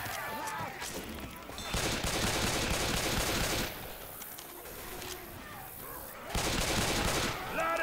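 Gunfire in the zombie shooter Left 4 Dead 2, with bursts of rapid shots and a shotgun, loud and dense, coming in waves with brief lulls between, while players' voices talk over the action.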